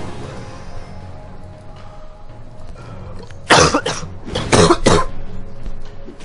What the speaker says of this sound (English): Cough, cough, cough, yeah, cough, I know.